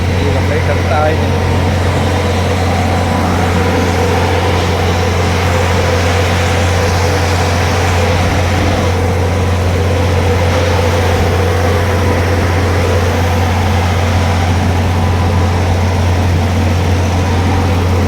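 Steady low engine drone from an IndiGo aircraft while passengers board, continuous and fairly loud throughout, with indistinct voices murmuring underneath.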